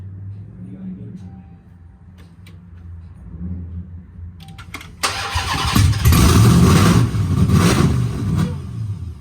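A Dodge Charger Scat Pack sits quietly for several seconds, then its engine cranks and fires up. It breaks into loud, close revving that builds and holds, with faint voices nearby.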